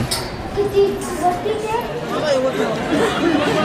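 Dense crowd chatter from many people waiting in a queue at Saptashrungi temple in Vani, with overlapping voices that stay steady and close throughout.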